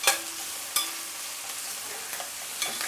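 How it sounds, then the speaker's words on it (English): Onions gently sautéing in a pan, a steady soft sizzle broken by a few sharp scrapes and taps of the stirring utensil, close and without speech. "So your onions will take time to gently saute."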